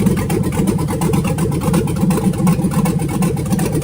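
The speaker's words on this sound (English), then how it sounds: "This is just after the thing started up and it was sitting there idling." A turbocharged Chevrolet Tahoe engine on a stock cam idles just after startup, an untuned, lumpy, choppy rumble pulsing in a steady rhythm, loud and close with no voices.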